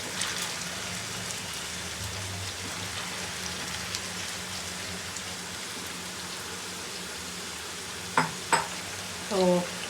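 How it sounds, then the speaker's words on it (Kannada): Potatoes frying in hot oil in a home kitchen, a steady soft crackling sizzle throughout, with a few brief clinks of a utensil near the end. "ಸೊ ಈ ಆಯಿಲಲ್ಲಿ ಗೋಲ್ಡನ್ ಬ್ರೌನ್ ಬರೋ ತನಕನೂ ಚೆನ್ನಾಗಿ ಫ್ರೈ ಮಾಡೋಣ."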